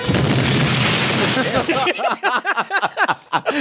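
An explosion sound effect from the 2019 Child's Play movie bursts out as a loud, dense, rumbling roar, then quickly gives way to someone talking excitedly over its fading tail.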